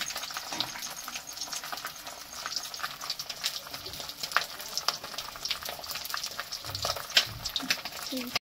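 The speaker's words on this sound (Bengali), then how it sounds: "মাছগুলোকে একটু ভেজে নিচ্ছি" Fish fries in hot oil in a pan in a home kitchen, giving a steady crackling sizzle with bursts of spitting throughout, close and fairly loud.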